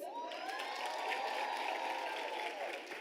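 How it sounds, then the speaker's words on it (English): A large audience at a university graduation ceremony in South Africa applauds, a dense steady wash of clapping with scattered cheers and whoops mixed in, sustained and even throughout. "can I hear a round of applause?"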